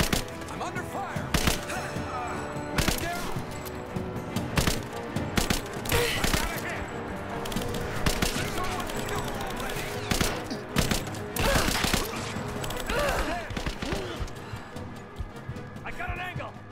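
Bursts of gunfire and volleys of shots from a Rise of the Tomb Raider firefight, sharp repeated cracks spread across the whole stretch, some loud and close, mixed with impacts and crashes while a voice talks over the action.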